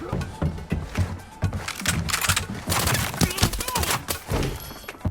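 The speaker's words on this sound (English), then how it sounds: "With countless gunshots around" Gunfire in the shooter game Arena Breakout, rapid bursts and scattered shots crackling in a busy fusillade that rises and falls over several seconds, some near and some distant.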